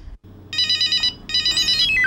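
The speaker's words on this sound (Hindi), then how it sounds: "phone Maharaj, ring ring ring ring" Telephone bell ringing in two bursts of rapid electronic trills, a short pause between them, over a low steady hum; loud and close with no talking.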